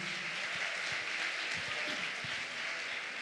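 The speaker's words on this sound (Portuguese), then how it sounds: "Vamos aplaudir mais uma vez a Ele." Church congregation applauding, with sustained clapping from many people across the short stretch, fairly faint and a little distant.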